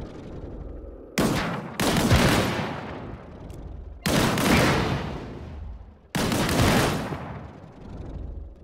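Heavy gunfire aimed at a barrel in the game Disintegration comes in three long, loud bursts of sustained shooting, each with a noisy rumbling tail, separated by brief quieter pauses.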